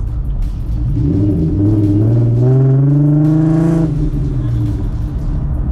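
A boosted Ford Mustang with a manual gearbox, its engine revving hard under throttle, the loud rumbling roar climbing in pitch and then dropping back, heard close up with people speaking over it.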